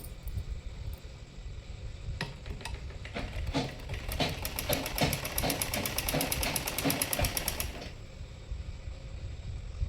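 A sewing machine stitches bias-cut fabric strips together for a blouse made from leftover cloth. After a few starts, it settles into a fast, even mechanical rattle for several seconds before stopping, close and clear with no talking.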